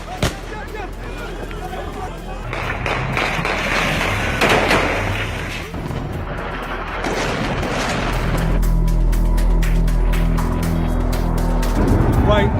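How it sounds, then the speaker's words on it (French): A loud explosion and a jet roaring close overhead during the 2016 military coup in Turkey, heavy rumbling booms and roaring noise mixed with crowd babble and voices throughout. "I think a jet just flew really, really close to us and there was a loud explosion."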